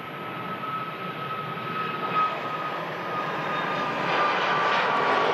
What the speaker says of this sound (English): Iceland Air departs as the Aer Lingus Retro rolls past us at the runway visit park